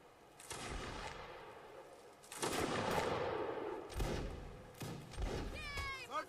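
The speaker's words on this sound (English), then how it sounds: "Firing back against a massive, huge, long line of Frenchmen in the far distance." Musket volleys crack in a Mount and Blade Napoleonic Wars line battle, with a massed line of French infantry firing in the far distance. Several ragged bursts of gunfire roll out at moderate loudness across the scene.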